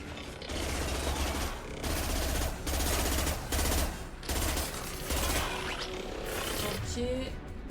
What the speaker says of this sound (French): activer la tourelle qui est là